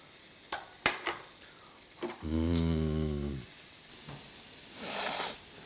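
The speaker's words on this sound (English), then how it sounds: "There's that sizzle." Faint, steady sizzling of steak cooking on a Tenergy RediGrill smokeless electric grill, with a few sharp clicks and a short droning hum partway through.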